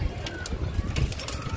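Pigeons let out of their coop give soft, low cooing close by, with light flutters and a voice talking over them through the brief moment.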